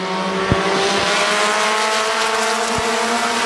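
Race cars roar around Midvale Speedway, a dense, loud continuous engine drone from a close pack of cars running lap one, with a few sharp thumps and no voices.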